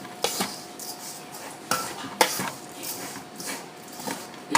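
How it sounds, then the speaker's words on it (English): A utensil stirs food in a cooking pot, with a soft scraping swish and several sharp metallic clinks against the pot at irregular intervals, close and fairly quiet. "Just give it a stir."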